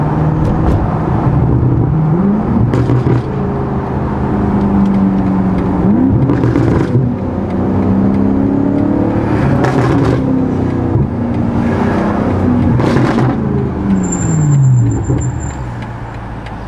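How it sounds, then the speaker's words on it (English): A 2023 BMW M5 Competition engine rumbles loudly from inside the cabin, the exhaust burbling and rising and falling in pitch as it revs and shifts at low speed. "Them burbles sound crazy."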